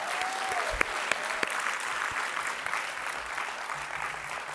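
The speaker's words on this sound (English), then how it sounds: "First, please, a round of applause from Professor Carrasco" An evening event audience honoring a Martin Luther King Jr. program applauds a speaker, a continuous wash of clapping with a few sharper individual claps and a faint tone briefly audible.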